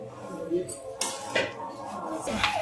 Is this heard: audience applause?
no